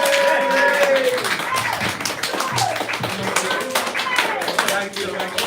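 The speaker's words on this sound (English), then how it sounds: "Give George another round of applause." Audience applause after a stand-up comedy set, with irregular claps and taps heard close by under cheering voices and chatter throughout.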